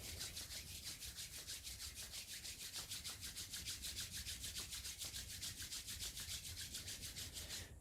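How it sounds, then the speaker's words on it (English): Palms rub briskly together in a hatha yoga class, a steady run of quick, rhythmic swishing strokes that continues evenly and fairly close throughout, with no talking. "Rubbing your hands again."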